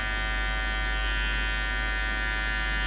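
Electric hair clipper set to zero buzzing steadily while cutting a fade, a loud, close, constant motor drone with no pauses.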